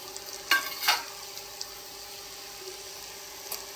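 Andhra-style chicken sizzling softly in a pan, with a couple of sharp scraping stir strokes early on and a faint clink near the end over a quiet, continuous fry.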